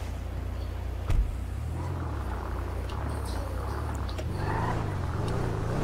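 A vintage Rolls Royce driving in GTA 5, a low engine rumble whose pitch rises and falls as it accelerates, with a brief knock near the start and faint traffic noises around it.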